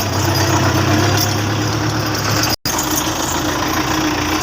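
A tractor hitched to a loaded trolley runs at a steady, rumbling idle, close and fairly loud, with one momentary cut in the sound partway through.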